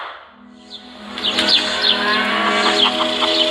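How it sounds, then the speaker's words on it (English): Thousands of hens packed indoors in a cage-free barn, a dense continuous clucking and squawking chorus with scattered higher calls rising over a steady low din, building from quieter to loud and filling the space. "This is the sound of a typical cage-free barn."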